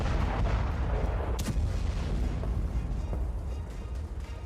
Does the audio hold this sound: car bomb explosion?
yes